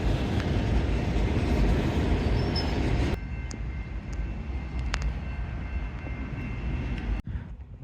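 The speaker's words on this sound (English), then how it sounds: "Here's terminus Sainte-Thérese, complete with a freight train running through." A freight train runs through the Sainte-Thérèse commuter rail terminus, a loud, steady rumble of rolling cars that drops abruptly to a quieter drone with faint squeals and clanks.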